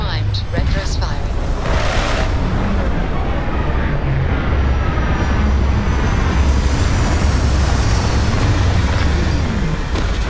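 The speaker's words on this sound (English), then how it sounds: "Landing struts primed. Retros firing." A spaceship in the Starfield game lands with its retro thrusters firing: a loud, continuous roaring rumble that stays steady throughout, with a brief higher burst near the start.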